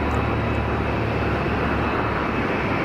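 A Piper PA28 light aircraft with wheel spats taking off at Geneva, a steady, loud propeller-engine drone with a low throbbing hum, continuous and fairly close, without voices.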